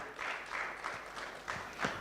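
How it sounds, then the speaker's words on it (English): Audience applause at the official launch event of Ripple Effect Kenya, formerly Send A Cow Kenya: a moderate, steady round of clapping from a seated crowd with a few louder bursts, heard alone at mid distance. "A round of applause again for them as they go back."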